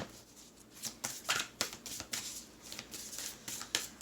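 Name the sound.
shuffling Divine Masters Oracle cards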